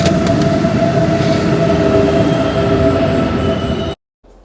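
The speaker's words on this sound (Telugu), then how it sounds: "మా ట్రైన్ వచ్చేసింది." A Swiss train pulling into the station at Interlaken, loud and close, with rumbling wheels, a sustained metallic squeal and brake whine, before the sound cuts out abruptly near the end.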